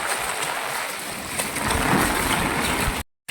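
Gusty wind roars during Cyclone Fengal over a flooded home area, a steady broadband rush buffeting the microphone close up, with no voices, before a brief dropout near the end.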